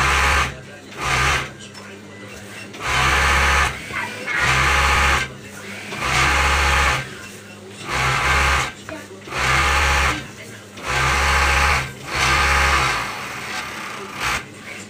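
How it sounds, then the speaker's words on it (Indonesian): An overlock serger edges fabric in repeated loud bursts of rapid stitching, each lasting about a second, separated by short pauses in a regular start-stop rhythm. "Ini kita obras dulu pinggirannya."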